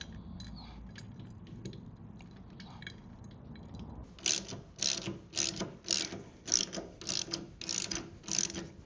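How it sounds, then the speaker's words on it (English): A ratchet tightens 5/16 hex bolts on a Ciro 3D highway peg bracket of a Harley Davidson Road Glide, with a quieter stretch of handling before a run of sharp, evenly spaced clicks, close and without talk. "they're a 5/16 hex, and we're just going to tighten these down."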